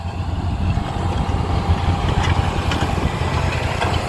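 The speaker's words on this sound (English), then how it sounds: "Got a guy in his tractor coming past," A tractor ploughing a field in the Dorset countryside near Poundbury rumbles past, its deep engine drone steady and fairly loud against faint outdoor air.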